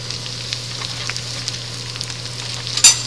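Onion, green onion and dry seasoning sizzle in a pot for Asian beef noodle soup, a steady moderate frying hiss over a low constant hum, ending in a brief louder stir or clatter.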